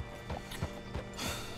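Horse hooves clip-clop in Red Dead Redemption 2, a quick run of close hoofbeats at an easy walking rhythm over a dusty homestead, with faint creaks of tack between steps.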